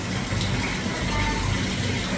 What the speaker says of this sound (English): a very pleasant waterfall over in the corner as well